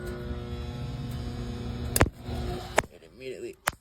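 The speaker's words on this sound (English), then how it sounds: "it immediately arcs and trips out that compressor" A breaker flipped on for a home AC compressor, followed by a steady electrical hum broken by sharp crackling arcs and snaps as it trips out, close up with no talking.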